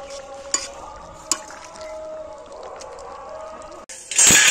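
Snakehead fish and elephant foot yam curry being stirred in a pan, with a low bubbling sizzle, a couple of sharp utensil clacks, then a loud scraping rush as the curry is poured out at the end.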